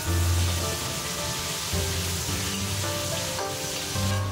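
Cured pork (larou) stir-fries in a wok over medium-low heat, rendering its fat with a steady, close sizzle and crackle that runs unbroken, along with faint scraping.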